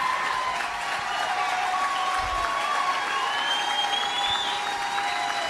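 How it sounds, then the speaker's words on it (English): A large crowd breaks into loud, sustained applause that roars steadily without pause, with scattered voices and cheers mixed into the clapping. "Roaring applause."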